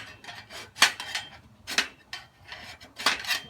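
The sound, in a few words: filing a burr off a steel welding table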